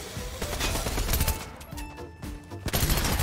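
Bursts of rapid gunfire from a machine pistol in a video game, loud and close, firing in several uneven volleys over a few seconds.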